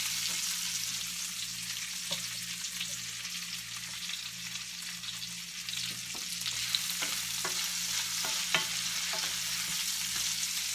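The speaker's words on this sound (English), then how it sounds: "And I'm going to saute the potatoes" Potatoes sauté in fat in a pan with a steady, bright frying sizzle, broken by occasional stirring clicks and small pops, close and continuous with no talk.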